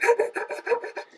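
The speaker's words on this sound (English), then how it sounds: "Now, the ends, we'll just sand those." Close, quick back-and-forth rasping of sandpaper on the ends of nightstand wood pieces in a woodworking shop, about eight short rhythmic strokes in a row, gritty and fairly loud.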